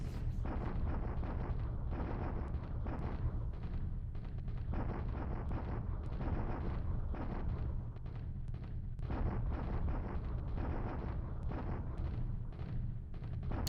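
Naval bombardment with artillery fire in the War in the Pacific game, a continuous rumbling barrage of heavy booms and blasts that rolls on loudly with no pauses.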